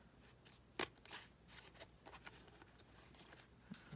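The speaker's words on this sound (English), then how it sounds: "just go ahead and snip off what you already did here" Scissors snip once through paper while decorating a junk journal, a single crisp cut standing out against quiet handling noise and light rustling.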